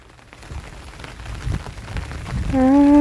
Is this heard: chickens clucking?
no